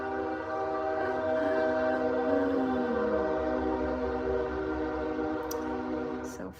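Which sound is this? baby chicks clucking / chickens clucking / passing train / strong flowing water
passing train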